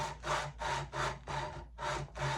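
Hand sanding with 100-grit sandpaper while polishing a crown: about six quiet, even back-and-forth rasping strokes in a regular rhythm, close up, with no voices.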